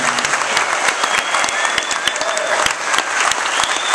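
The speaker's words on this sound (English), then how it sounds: "So we just do one round of applause for all of them" A lively round of applause from a premiere audience, with sharp individual claps standing out over a continuous wash of clapping, loud and sustained throughout.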